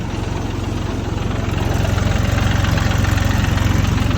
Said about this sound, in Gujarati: તો અત્યારે ફાઇનલી મિત્રો આવી ગયું છે ટ્રેક્ટર પારા બાંધવાનું.